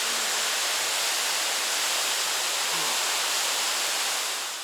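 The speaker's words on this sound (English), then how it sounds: "this power of the waterfall, how all the water hits from above" Cold mountain waterfall with water crashing down from above, a loud, close, unbroken roar of broadband rushing noise with no voices, holding steady throughout and easing only slightly at the very end.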